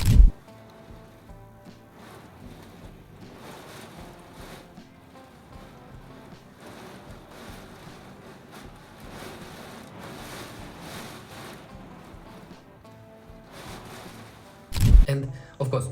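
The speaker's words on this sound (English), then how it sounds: "One day it rained so hard you wouldn't believe it." A heavy rain downpour in Ocean City hisses as a steady, even wash of broadband noise, with a couple of sharp louder bumps right at the start and near the end.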